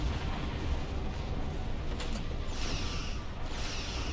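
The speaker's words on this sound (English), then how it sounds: "Fire high yield torpedoes" High-yield torpedoes launched at a turret in Star Trek Online, a dense, roaring barrage of booming weapon fire with a whooshing burst partway through, loud and continuous.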